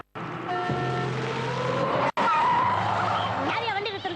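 A vehicle skids to a stop with a loud, sustained tire squeal lasting a couple of seconds, briefly cut off, then more screeching and engine noise close by, with a voice faintly near the end.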